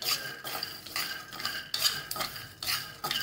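A utensil scrapes and clatters against a pan in repeated rhythmic strokes as peanuts are stirred and roasted, close and fairly quiet with brief pauses between sweeps.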